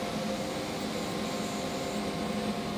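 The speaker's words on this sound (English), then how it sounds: "This is with the vacuum pump and the spindle running." A ShopSabre CNC router runs with its vacuum pump and spindle going, giving a steady, even whir and hum that holds at one level throughout, no voices.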